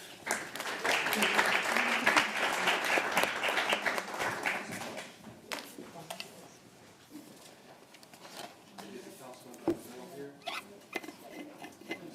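Council chamber audience applauding after a proclamation of National Public Safety Telecommunication Week, a dense burst of clapping that swells early then thins into scattered claps and murmured voices.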